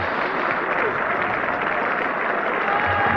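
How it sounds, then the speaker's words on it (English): Steady applause from the crowd at the 1972 England versus Australia first cricket Test, a broad sustained patter of distant clapping that holds evenly throughout with a commentator talking over it. "there's got to be some applause now, because that's a 100 partnership come up"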